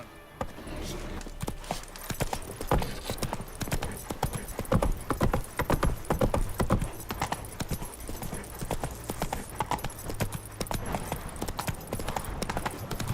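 Hooves clip-clop steadily in a fast gallop as a horse is ridden in The Witcher 3: Wild Hunt video game, with a brief whinny and faint game sounds beneath; a voice occasionally speaks over the rhythm.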